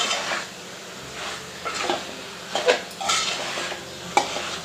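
Spoon scrapes and clinks in a pan as cauliflower mixed vegetable curry is stirred, with a soft sizzle of frying oil beneath; several distinct close strokes arrive at an uneven rhythm, with no talking.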